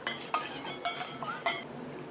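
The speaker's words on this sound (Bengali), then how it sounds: "খুব ভালো করে মেখে নেব।" Small spiced crabs being mixed with coriander in a bowl, giving quiet, irregular clacks and scraping shell knocks at a soft, close level with no talking.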